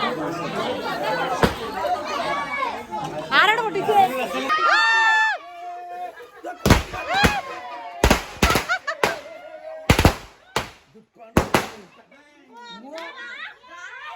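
Lively chatter and children's voices at a family Eid celebration give way to a string of sharp, loud firecracker bangs at irregular intervals, with voices continuing between them.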